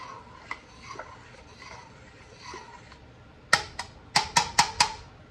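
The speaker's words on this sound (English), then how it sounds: "Again, stir that." A spoon stirs Brunswick stew in a metal pot. It starts with soft, scattered scrapes and taps, then a quick run of sharp, ringing clanks against the pot rim, close and clear with no talking.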